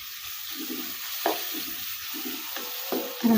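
Finely chopped onion fries in melted butter with a little oil, sizzling steadily close up while a spatula stirs it in several short scraping strokes, with a louder hiss rising at the end.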